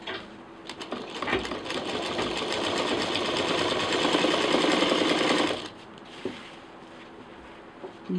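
A sewing machine stitches a quilted handbag in a fast, steady mechanical run of about five seconds, close and fairly loud, then stops and leaves a quiet room with faint clicks.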